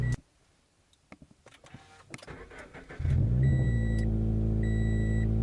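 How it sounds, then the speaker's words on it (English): A Subaru BRZ with a loud aftermarket exhaust cold-starts up close: a short cranking burst, then a deep, steady, booming idle that holds loud and unbroken, with a faint electronic chime sounding twice over it. "Just a good cold start right there."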